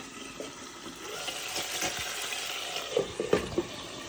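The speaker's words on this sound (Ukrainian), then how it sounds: "У мене там смажиться печінка." Steady sizzle of liver frying in a pan with a few clinks and scrapes of stirring toward the end, close and fairly quiet.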